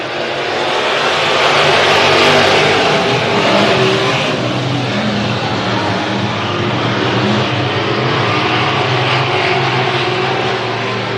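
A pack of race cars roars around a speedway track after the green flag at weekly racing at Hibbing Speedway, a loud, sustained wall of engine noise that swells and eases slightly as they pass.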